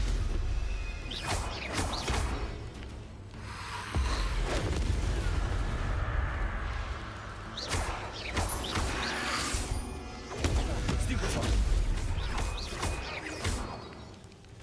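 Booming blasts and crashing impacts from the Confringo explosive spell in Hogwarts Legacy, several bursts across the stretch with game noise between them, no talk over them.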